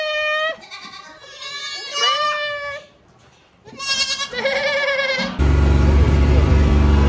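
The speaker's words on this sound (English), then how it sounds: "You like the little baby goats, eh?" Young goats in a pen on a Florida farm bleat repeatedly in high, wavering cries, several calls overlapping close by before a loud burst of broadband noise takes over at the end.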